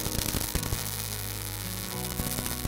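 A MIG welder running a steady bead on 1/8-inch thick material, producing a continuous buzzing, crackling hiss that holds even throughout, close and loud with no talking.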